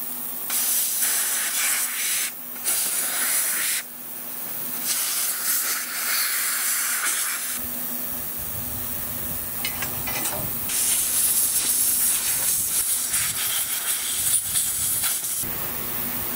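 Compressed air blasts off the parts of a Mac 10 gun during cleaning, a steady loud broadband hiss in long bursts with short pauses between them and no talk.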